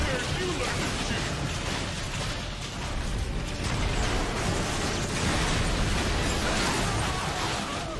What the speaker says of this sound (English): Man, the Ark's getting totally wrecked.